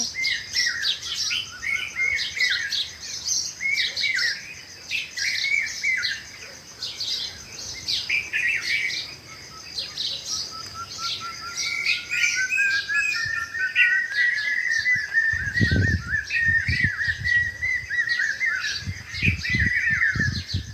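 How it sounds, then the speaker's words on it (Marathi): Many birds chirping and trilling together without pause, a dense chorus of tweets, with a few low thumps near the end. "पक्षी मस्त असं एकमेकांना साथ देऊन असे मस्त चिवचिव म्हणजे गात आहे"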